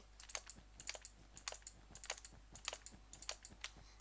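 Quiet computer keyboard typing with a steady run of crisp key clicks, including an oddly sounding shift key, heard close and alone with no talking.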